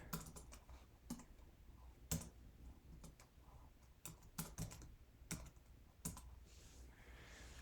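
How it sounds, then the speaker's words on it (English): Rapid bursts of keystrokes on a computer keyboard, clicking in uneven clusters with short pauses between words, close and fairly quiet with no talking. "Let's type it in"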